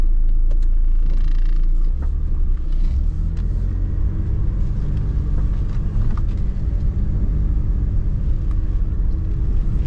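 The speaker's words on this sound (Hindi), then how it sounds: "टेस्ट ड्राइव लेते हैं।" A Paro 660cc car converted to a CVT gearbox hums and rumbles on a test drive, a steady loud road and engine drone with a brief rising surge near the start.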